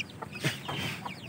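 A village chicken clucks up close, a quick string of soft, throaty clucks over about a second, with no voices.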